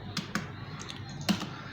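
Brief bursts of keystrokes on a computer keyboard while CSS code is typed, a few quick close clicks in a short run against a quiet room.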